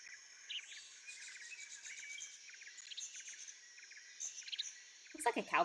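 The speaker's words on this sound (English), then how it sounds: "Looks like a cowbird." Cowbird calls from the Metal Gear Solid 3 game jungle: repeated short chirps and twittering phrases over a steady insect-like buzz, moderately loud throughout with a sharper burst of sound at the very end.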